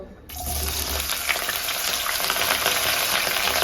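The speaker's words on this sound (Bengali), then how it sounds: "তেলটা আমার গরম হয়ে গেছে এবার পটলগুলো দিয়ে দেব" Pointed gourd pieces hit hot mustard oil in a pan with a sudden loud sizzle that settles into steady, close crackling frying with faint stirring noises throughout.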